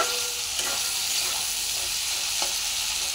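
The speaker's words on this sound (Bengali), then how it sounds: "আলু মশলার সাথে কষানো হয়ে গেছে, এবার আমি দিয়ে দেব টমেটো কুচি।" Chopped tomato goes into potatoes cooking down with spices, producing a loud, continuous nearby sizzle with a couple of brief stirring scrapes.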